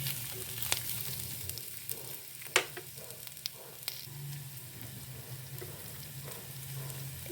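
Curry leaves, garlic and green chilli frying in a pan, with a steady oil sizzle and a few sharp pops and crackles scattered through.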